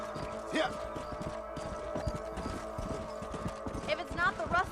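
Horse hooves clip-clop at a steady walking rhythm in the Western game Red Dead Redemption, close and fairly loud, with a brief whinny and other ambient game sounds mixed in.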